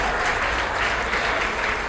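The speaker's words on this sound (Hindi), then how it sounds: "बजाइए ना भाई ताली" An audience at a political party gathering in Bhojpur claps steadily in sustained, dense applause, loud and continuous throughout.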